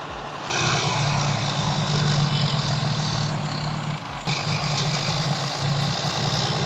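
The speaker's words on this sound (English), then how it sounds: "This T150 is a truly unique tractor, usually used for towing aircraft." A T150 tractor, normally used for towing aircraft, runs its heavy engine with a steady low rumble and broadband roar, loud and continuous with a brief dip midway, no talk.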